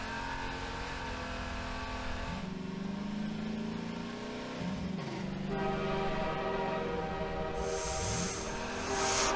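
In the video game Half-Life 2, a Combine train passes with a loud, sustained mechanical roar and screech that builds and shifts over several seconds, ending in a bright hiss, with no talking.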